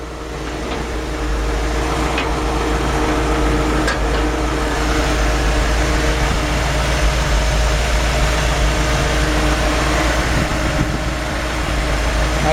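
A 1946 Studebaker M5 truck fitted with a 350 V8 idles steadily and close by, a continuous low rumble with a faint whirring hiss above it and no talk over it.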